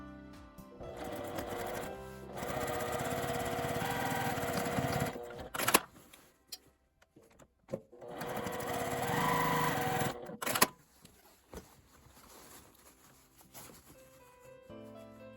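A sewing machine stitches a tweed tote bag with a 1 cm seam allowance, running in two long close bursts of rapid mechanical whirring separated by a short pause with small clicks.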